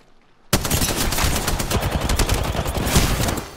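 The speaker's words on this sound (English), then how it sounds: "Flunkers shooting at me." Enemy gunfire in a video game bursts in suddenly and stays loud: rapid, continuous automatic shots form a dense fusillade that keeps up without a break, with no talk heard.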